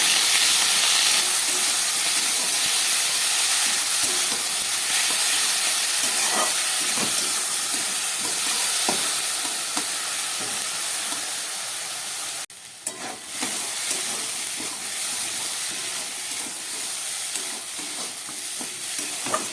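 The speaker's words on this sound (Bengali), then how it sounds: "সবজি দিয়ে বিউলির ডালটা 2-3 মিনিট মতো আমি ভালো করে একটু কষিয়ে নিলাম" Vegetables and urad dal stir-fried in a hot pan give off a steady, close sizzle and hiss, with stirring scrapes throughout and no voices.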